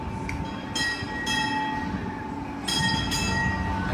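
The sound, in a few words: train approaching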